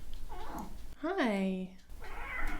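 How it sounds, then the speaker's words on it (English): Pet cat giving one long, clear meow that rises and falls, close to the microphone, set between a person's speech before and after. "I'm sorry if you can hear him purring."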